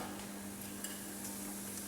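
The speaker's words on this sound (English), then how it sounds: "make sure the pot is warm, so it sort of starts sizzling when you put it in" A steady, crackling sizzle of onions and garlic frying in olive oil in a warm pot, continuous and close, with an occasional faint clink.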